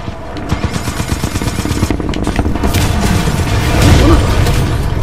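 Gunfire in the video game Titanfall 2: a dense, continuous rattle of rapid shots and booms, loud and close, building slightly toward the end.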